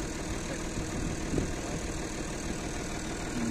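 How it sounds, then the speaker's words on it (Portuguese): Farm tractor engine running steadily at idle, a low, even rumble with slight knocking texture, moderately near and alone without voices. "O trator ajuda bastante."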